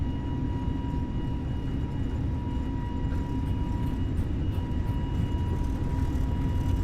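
An airplane engine at full throttle in Flight Simulator 2020 during a takeoff roll, a steady loud drone with a constant tonal hum that holds evenly throughout.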